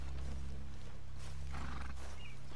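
Horses in the video game Red Dead Redemption II, a brief low snort and rumble with soft shuffling, set against a steady low ambient drone at moderate level.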